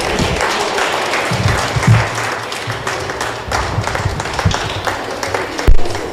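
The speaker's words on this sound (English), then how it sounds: "another big round of applause" A big round of applause from a crowd following the signing of South Africa's National Health Insurance Bill by President Ramaphosa, steady dense clapping with a few louder thumps near the end.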